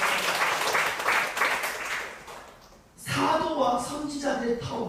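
A church congregation claps warmly for about three seconds, and the sound tapers off before a voice begins speaking over the room.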